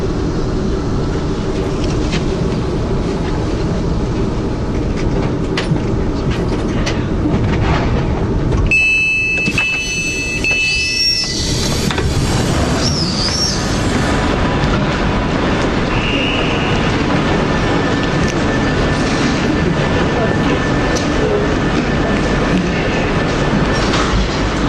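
A train rumbling along the rails as it pulls into London Euston, its steady wheel noise filling the clip throughout, with a brief electronic tone and squeal partway through.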